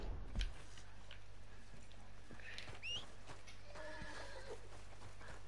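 A horse in the video game Red Dead Redemption 2 lets out a faint whinny amid soft hoof and ambient sounds, quiet and somewhat distant, no voices.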